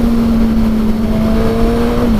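A 2019 Suzuki Katana motorcycle engine held high above 8,000 rpm, a loud, close, steady high-pitched howl sustained without a break.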